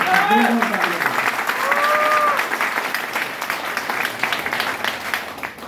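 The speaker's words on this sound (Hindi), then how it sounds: "ये तालियां जो है इनके आदरणीय पूज्य स्वर्गीय पिताजी के लिए" Applause from an audience at an RCM business meeting, dense clapping sustained throughout, with a voice speaking over the start.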